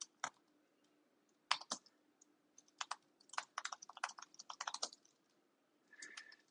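Quiet keys clatter on a computer keyboard as data is entered, irregular bursts of close clicks with short pauses between them, faint and alone without any talking.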